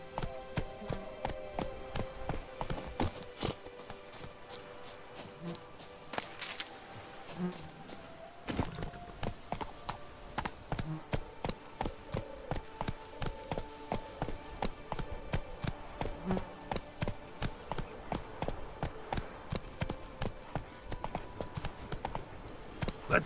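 Roach the horse gallops in The Witcher 3, giving quick, evenly repeating hoofbeats that run almost the whole time, fairly faint, with a brief pause, then a fresh burst of galloping alongside faint game sounds.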